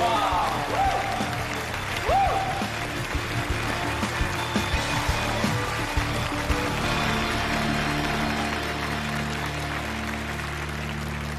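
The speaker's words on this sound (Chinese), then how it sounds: "掌声有请挑战者" Studio audience applauding to welcome a challenger onto a TV show stage, a steady wash of clapping that continues under music and occasional talk for several seconds.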